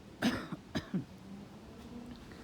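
A few sharp coughs in quick succession, close by, followed by quiet background noise.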